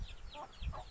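A neighbour's chicken clucks on a farm, giving a few short, close, repeated clucks over a low rumbling background, with no talk.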